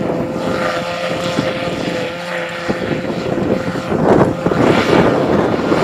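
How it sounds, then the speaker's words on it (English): A JF forage harvester chopper runs steadily with a continuous droning engine hum and mechanical whine, swelling louder toward the end, with some wind buffeting and no talk. "So it's the JF chopper today."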